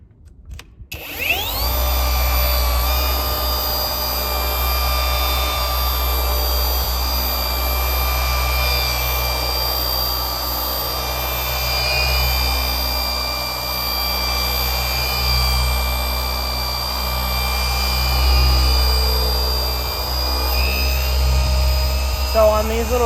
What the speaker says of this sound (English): I'm going to turn my machine up and I'm going to make sure that the corner of my pad is catching inside of that crease